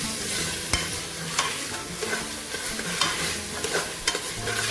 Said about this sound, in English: So now we're going to stir in our peas into the oil mixture.